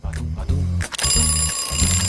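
An alarm clock rings loudly in repeated buzzing bursts with short gaps between them, close and continuous across the clip.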